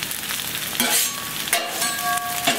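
Canola oil sizzling on a Camp Chef flat top griddle, a bright, steady hiss with sharp bursts as more oil hits the hot steel and a spatula scrapes, close and fairly loud with no voices.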